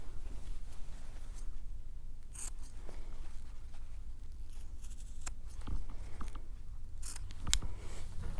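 Scissors snip off stray bits sticking out of a sampler piece in a series of close, crisp cuts at an irregular rhythm, with no talking.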